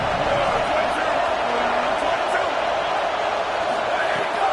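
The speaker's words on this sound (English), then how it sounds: "Decibels rising as the crowd gets behind this defense on 3rd down." A stadium crowd in a college football video game, USC versus Ohio State, roars steadily on third down, a dense broadband wash that holds loud and unbroken throughout.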